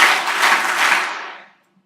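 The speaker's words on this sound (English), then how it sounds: "please clap 3 times" Audience clapping three times in near unison at a keynote event, a dense, loud burst of many hands merging into one sustained wash that cuts off cleanly after about a second and a half.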